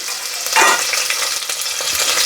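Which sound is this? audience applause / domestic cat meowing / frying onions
frying onions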